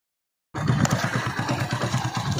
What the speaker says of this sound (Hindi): गांव से कोई बाइक आ रही है देखो सामने है ना